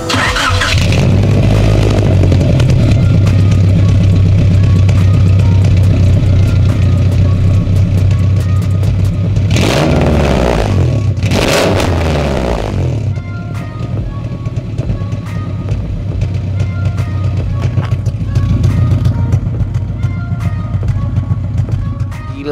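A modified Honda Civic Estilo EG6 with a VTEC engine and an upgraded cam is started up close. It gives a loud cranking catch, then settles into a steady, lumpy idle with a couple of mid-clip bursts.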